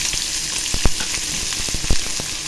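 Onions frying in hot sunflower oil in a kadai, a steady crackling sizzle throughout with a few sharper pops standing out, close and fairly loud, no voices.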